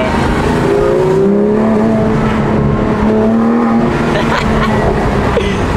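A Porsche 991.2 GT3 roars loudly and continuously through its opened exhaust, its pitch rising as it revs, with the rumble of traffic around it.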